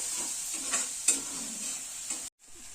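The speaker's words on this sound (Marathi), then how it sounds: "कांदा चांगलं भाजून घ्यायचो असं साधारण गोल्डन होईपर्यंत" Onion frying in a pan until golden, a steady soft sizzle with a few stirring scrapes, running alone before it cuts out briefly near the end.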